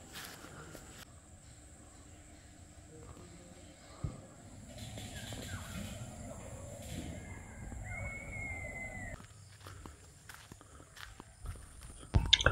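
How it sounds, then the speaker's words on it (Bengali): Footsteps walk along a jungle path near a nature camp, a steady series of soft treads on the ground. Faint bird calls and some rustling sound in the background, and a louder knock comes near the end. "পায়ে পায়ে এগোতে লাগলাম জঙ্গলের দিকে।"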